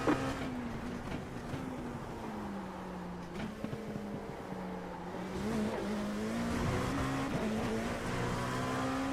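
An IMSA LMP2 prototype race car at Virginia International Raceway closes in fast and passes, a steady engine drone rising in level toward the end, heard from inside another car without talk.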